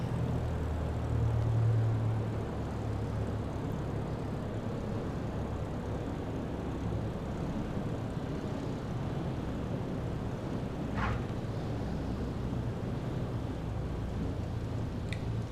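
A Cessna 172 in Microsoft Flight Simulator 2020 touches down at night at Houston Hobby: a steady, fairly loud engine and airflow drone runs unbroken throughout, with no talking.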